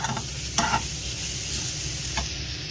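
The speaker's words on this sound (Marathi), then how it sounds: "भाजत राहायचा कांदा" Onion frying in oil in a pan for black pepper chicken, a steady sizzle with a few brief stirring scrapes, close and fairly loud, no talking.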